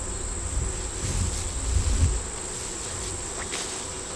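Honey bees buzz around an open hive, a dense steady hum of many insects close by with a few individual bees passing louder near the middle.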